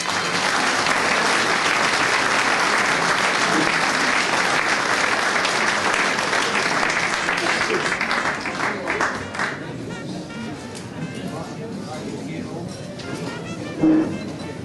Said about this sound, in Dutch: Dames en heren, uw applaus.